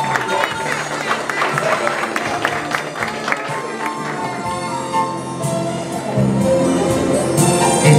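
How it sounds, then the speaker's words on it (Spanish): Applause and scattered cheering from guests at a quinceañera, blended with music and a voice over a loudspeaker, with the crowd noise strongest in the first few seconds. "Lo recibimos con un fuertísimo aplauso"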